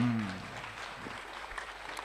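A short burst of applause from an audience at an Indonesian Islamic religious talk fades quickly into a soft, sparse patter with a faint voice at the start.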